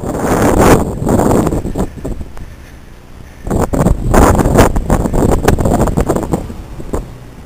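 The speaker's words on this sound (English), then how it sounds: "we do have a mild blizzard that's blowing in" Strong blizzard gusts roar and buffet the microphone, dropping briefly in the middle before surging back up just as loud.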